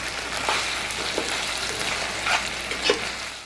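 Vegetable curry for veg dum biryani with turmeric and chili powder stirred in a hot pan, a steady close sizzle broken by soft scraping strokes of the spoon.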